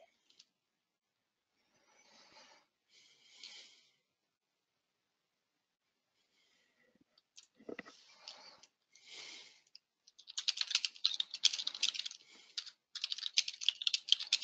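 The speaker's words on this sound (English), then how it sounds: "I hear you typing away" Quiet keyboard typing in scattered bursts, sparse at first then a faster, denser run of clicks near the end, close and soft.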